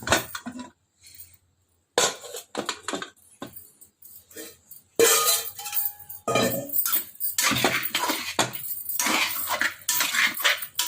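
Metal clanks and scrapes as a cooker lid is twisted and lifted off, with bursts of rattling and clinking between brief pauses.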